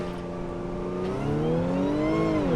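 An Audi car accelerates hard, its engine note climbing steadily in pitch through rising harmonics. The engine is loud and close, with no talk.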